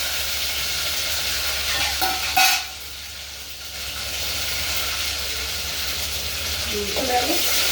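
Dried red chilies and curry leaves hit hot tempering oil, giving a steady broad sizzle and crackle with a brief louder burst partway through and faint clatter of stirring.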